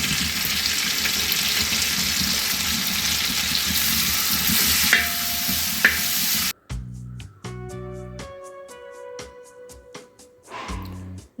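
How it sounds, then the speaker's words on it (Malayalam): Onions frying in leftover oil from frying chicken, giving a dense, close, hissing sizzle with a few clinks of stirring. After about six seconds the sizzle cuts out and a tonal music passage takes over. "ഞാൻ ആ എണ്ണ തന്നെയാണ് ഉള്ളി മൊരിച്ചെടുക്കുന്നത്"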